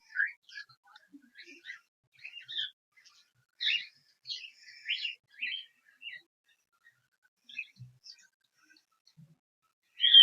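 Cockatiels, semi-adult and adult birds kept for sale, give short bright chirps and calls in scattered bursts, some close and loud, others fainter, with quiet gaps between them and no talking.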